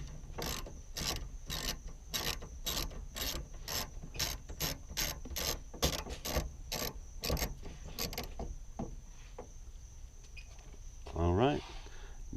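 Rapid ratchet socket wrench clicking while loosening a nut on a minivan sliding door handle, a steady run of sharp evenly spaced clicks close by for about eight seconds, then sparse handling noises and a brief voice.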